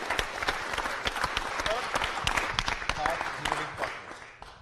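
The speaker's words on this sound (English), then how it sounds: "Let's give it up for the fans." During a city council meeting, an audience breaks into lively applause, a close, dense burst of clapping that fades slightly near the end.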